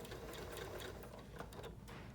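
A sewing machine back stitches along quilt binding, a fast, even mechanical whir with rapid ticking stitches, close but faint, and no talking.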